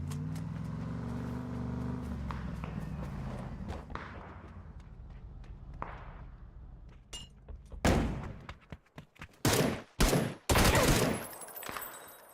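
Engine drone fades out, then a burst of loud, sharp gunshots cracks in rapid irregular volleys near the end, in the video game PUBG.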